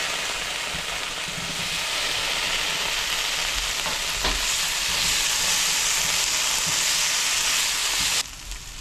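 Paneer cheese searing in a hot pan, a loud continuous hiss and sizzle that swells slightly before cutting off abruptly near the end.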